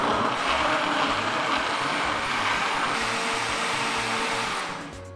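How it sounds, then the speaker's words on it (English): A blender whirs steadily at full power, blending beans with coconut milk for coconut fried beans; the dense, loud motor drone runs the whole time, then eases off slightly at the end. "I'll be using the coconut milk to blend this and fry it together."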